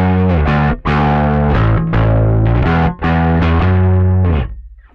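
A bass guitar rig driven with its gain turned all the way up gives a thick, heavily overdriven tone. Sustained distorted notes and chords repeat in a steady pattern with brief gaps, loud and close, then ring out at the end.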